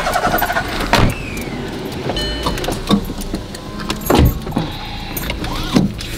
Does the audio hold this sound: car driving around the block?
yes